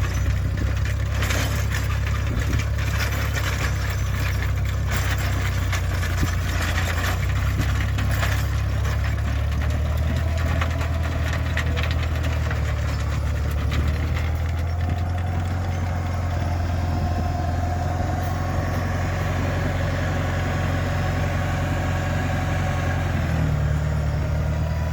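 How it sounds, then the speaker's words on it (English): An old Farmall tractor engine idles steadily and close by, a low continuous rumble with a rough, throbbing rhythm that holds for the whole stretch, with a few faint clanks and rattles on top. "So this is an old Farmall tractor."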